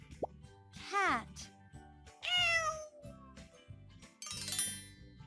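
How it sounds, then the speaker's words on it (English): A cat meows two or three times, with drawn-out, sliding calls, between a cartoonish plop and a bright jingle in a children's animal-sounds lesson, with a voice speaking in between. "Cat."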